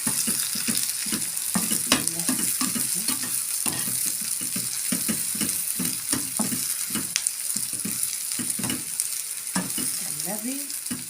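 Onions sizzle in a hot pan for an Egyptian bessara dish while being stirred, with a constant crackling fry broken by repeated scraping strokes of the utensil at an uneven rhythm, close by and moderately quiet, with no talk.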